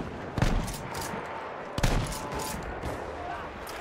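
A shotgun loaded with slugs fires in Battlefield 1: two heavy, booming shots land a little over a second apart over a constant background of distant battlefield gunfire.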